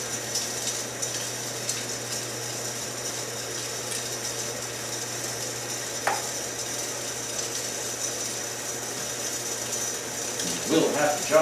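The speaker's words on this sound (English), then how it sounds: "Start fitting up some bolts here." A ratchet clicks quietly as bolts are fitted to a Renegade oil pan on a Porsche 944 with a V8 swap, the faint mechanical ticking set against a steady background hum, with a louder clatter near the end.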